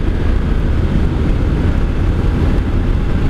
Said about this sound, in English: Engine wise, it just purrs.